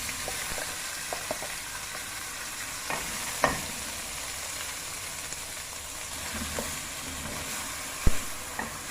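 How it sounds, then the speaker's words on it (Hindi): Fresh beans frying in a pan with light-browned ginger and cumin, a soft continuous sizzle with sparse clinks and scrapes of stirring. "इसको मिक्स करूँगी, हल्का सा फ्राई करूँगी।"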